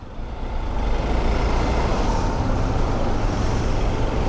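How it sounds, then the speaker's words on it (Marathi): Dense, heavy road traffic with trucks on a bad morning road between Mumbai and Trimbakeshwar, a continuous loud broadband engine rumble and roadway roar throughout, with no talk. "अरे रे रे, भरपूर ट्रॅफिक आहे"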